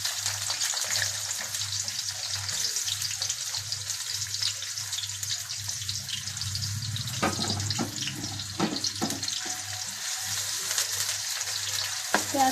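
Onions frying in a pan give a steady, close sizzle throughout, with a few scraping stirs partway through and a low hum underneath.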